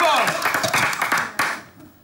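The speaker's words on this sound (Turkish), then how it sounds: "Alkış yap. Bir alkışım var." Studio audience at a Turkish comedy stage show applauds in a close, dense burst of clapping that fades toward the end, with voices mixed in.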